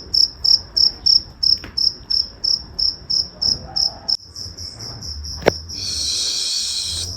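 Crickets chirp around a home in steady, evenly spaced pulses, about a dozen close and clear. The pulses then blur into a continuous, louder trill, with a soft background hum and one sharp knock.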